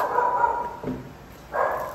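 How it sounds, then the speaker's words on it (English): Two short barks from a dog, one at the start and another a moment later, fairly close with a little room echo. "the dogs are barking"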